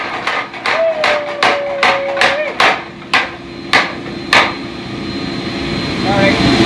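A power hammer forging a northern plains tomahawk pounds in a quick series of loud, sharp blows that then slow to spaced strikes, with a machine hum and a voice heard faintly.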